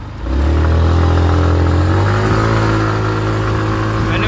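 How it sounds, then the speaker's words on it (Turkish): Motor scooter pulling away and accelerating, its engine rising from a low idle to a loud, steady drone that holds for several seconds, close to the listener with no talking. "Şöyle bir hızlanma videosu çekeyim."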